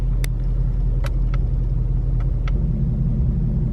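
A Ford Mustang Shelby GT350 with six-speed manual and sport exhaust idles with a deep, steady throaty rumble, close and loud, while a few sharp clicks sound over it.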